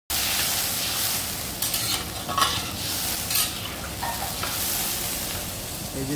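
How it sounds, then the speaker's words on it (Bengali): Chili paneer masala gravy sizzling loudly in a pan as water goes in, with a bright hissing burst and steady stirring, close up and without any talking. "এখন একটু পরিমাণ মতো জল দিয়ে দেবো। এই জলটা গ্রেভির জন্য দিচ্ছি।"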